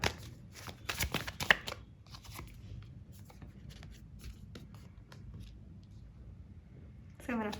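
Tarot cards shuffled in a quick riffling burst and then drawn and laid down with soft slides and taps, close and fairly quiet in a calm room, with a brief louder rustle at the end.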